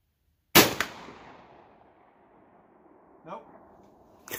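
A single sharp shotgun blast fired outdoors at a range, with a quick echo and a long fading tail, followed a few seconds later by a brief faint noise.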